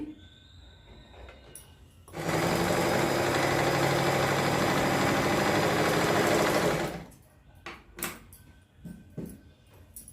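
A sewing machine stitches the edge of patiala salwar fabric in one loud, rapid, continuous burst of about five seconds, with quiet handling clicks before and after.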